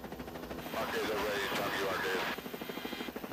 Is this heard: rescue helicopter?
yes